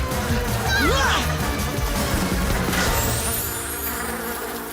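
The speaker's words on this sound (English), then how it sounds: "You can't escape my wasps!" A loud swarming buzz of cartoon wasps fills the clip, with whooshing swoops over it.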